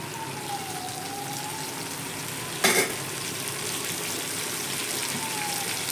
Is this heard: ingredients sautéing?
yes